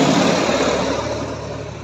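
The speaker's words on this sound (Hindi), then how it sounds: "देखो ट्रैक्टर हो रहा है" A tractor engine runs steadily in a farm field, a continuous broadband rumble that stays loud and close and fades slightly toward the end, with no talking.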